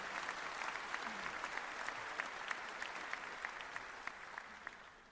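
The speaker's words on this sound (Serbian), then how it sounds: "pozdravimo velikim aplauzom ovu odluku Skupštine grada Beograda" An audience at a memorial academy for a day of remembrance claps steadily and loudly, a dense, continuous ovation from a large crowd that holds at even strength throughout.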